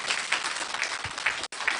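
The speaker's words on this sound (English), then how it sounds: "A bigger round of applause" Applause from delegates at a political campaign meeting in Lambussie: a steady wash of clapping with faint rhythmic swells, briefly cut off near the end before it resumes.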